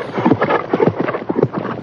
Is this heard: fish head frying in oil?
no